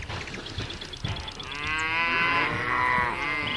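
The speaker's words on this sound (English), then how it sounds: "Cattle from other parts of the archipelago are being ferried to their summer pastures" Cattle being ferried to summer pastures on the Jungfruskär Islands in an archipelago, lowing in long, drawn-out moos that swell and carry, with splashing water beneath and no voices.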